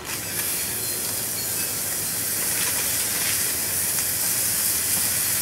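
A seasoned brisket burger patty sizzles on a hot flat-top griddle with a steady, close, hissing crackle and no voices.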